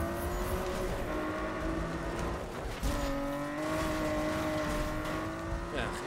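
A race car engine drones steadily in Need for Speed, with rising revs and gear shifts over continuous road noise, loud and close, with no talk during the run.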